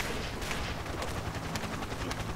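Dense gunfire in the video game Ace of Spades, rapid overlapping shots and blasts forming a loud, continuous barrage with no talk.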